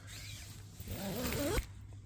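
A zipper on a low-budget OEX camping tent door is pulled in one continuous stroke and stops against its end with a small click, close and fairly quiet.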